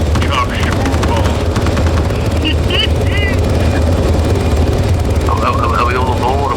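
Video game helicopter rotors roar loudly and steadily throughout, a dense continuous thrum with scattered gunfire-like crackle and faint chirpy effects layered on top.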